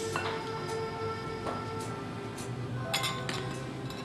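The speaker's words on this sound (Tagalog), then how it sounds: "Mix muna natin together yung ating liquid ingredients with the sugar." Eggs, oil and sugar being mixed in a bowl, with repeated light clinks and scrapes of a utensil against the bowl under a steady room background, no talk.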